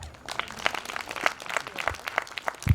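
Faint audience applause, a patter of scattered claps from a crowd, brief and distant.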